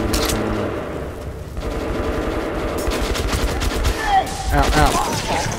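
Machine gun fire in the video game Metro Last Light Redux comes in rapid bursts of dense, loud shots with booming impacts, layered over game effects and some talk.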